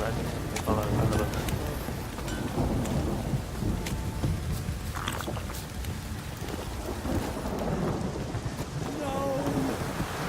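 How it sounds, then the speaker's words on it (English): Video game heavy rain from The Witcher 3 pours steadily while thunder rumbles low in the background, the downpour loud and constant throughout. "this downpour's a bastard, it is."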